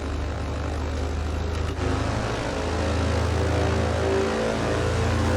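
Steady droning hum of a Britten-Norman Islander's twin propeller engines in Microsoft Flight Simulator, Cape Air livery on the Maine coast, a constant close engine tone that rises slightly in pitch partway through.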